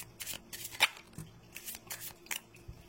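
Soft, close handling of Belline oracle cards, with several quick riffling and sliding bursts and a few light taps between them.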